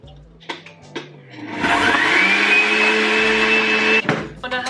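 A countertop blender whirs loudly and steadily for about two seconds while blending a matcha latte, with its motor pitch rising as it spins up, framed by brief clatter before and after.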